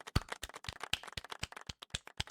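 Quick, rhythmic hand claps, around a dozen, sharp and close, steady applause-like patter without any voices.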